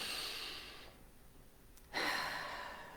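A slow, breathy inhale and exhale, close and soft, with a brief quieter pause between the two airy breaths.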